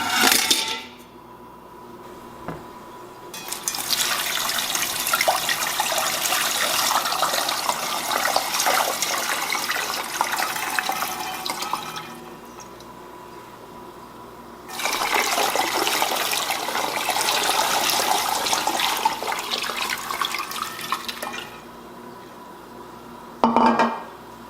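Water runs from a tap into a pan in two long steady pours, a loud close rushing splash lasting around ten seconds each, separated by a short pause and ending with a clunk.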